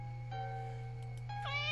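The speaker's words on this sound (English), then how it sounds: "Shut the fuck up, goddamn cats!" Cats meowing in The Grudge 2 flash game, a sustained tonal yowl followed by a rising, wavering meow over a low steady hum, alone without talk.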